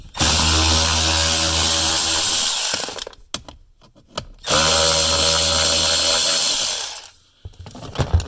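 A power tool runs loud and close with a steady high whine in two long bursts to back 5mm screws out of a blower motor on a 1999-2007 Chevy Silverado 2500, with brief clicks and handling noises in the gap between the bursts.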